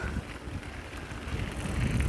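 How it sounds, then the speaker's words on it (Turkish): Gusty wind buffets the microphone on a hillside in Güzelyurt, Cappadocia, a continuous low rumble with rushing surges that grow stronger toward the end. "Şöyle sizlere küfür küfür rüzgar eşliğinde"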